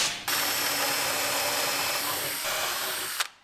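A power drill pre-drills holes in the wooden sides of storage drawers, running steadily for about three seconds with a brief change partway through before stopping.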